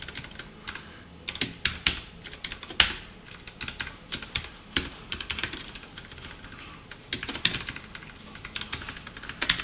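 Computer keyboard typed on steadily during an HTML lesson, quick irregular clacks in clusters with short pauses, close and quiet, with no talking.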